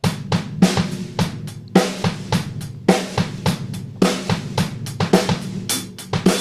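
A drum kit plays a repeating groove with sharp snare and cymbal hits over kick drum, close and alone, with a lopsided dotted feel.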